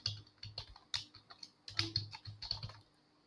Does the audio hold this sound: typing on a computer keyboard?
yes